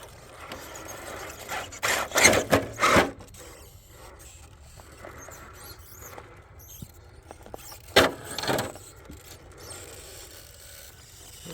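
Off-road vehicle tire grinding out of a rock crack on a trail: bursts of scraping and creaking rubber against stone near the start and again later, separated by quieter engine and mechanical rumble.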